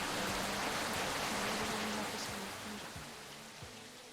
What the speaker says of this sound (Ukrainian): Це персональний грибний дощик.